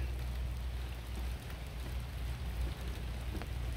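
Steady rain falls during a long spell of wet weather, giving a constant dense hiss with low rumble underneath and no talking.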